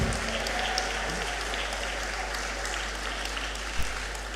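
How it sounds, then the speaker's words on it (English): Graduates at a university congregation ceremony applaud themselves, a steady wash of crowd clapping that holds evenly throughout with no distinct talk over it. "Clap for yourselves."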